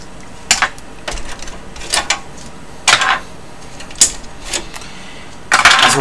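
A drive tray sliding out of an Icy Dock Black Vortex MB074SP-B drive cage, heard as a string of short plastic-and-metal clicks and scrapes in separate bursts, with no talk.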